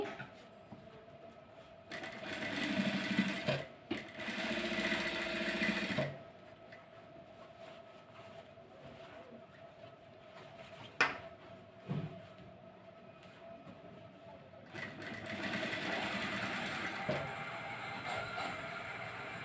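A sewing machine stitching around a blouse neckline, running in several bursts of rapid whirring and needle chatter separated by quieter pauses as the fabric is turned, close and moderately loud.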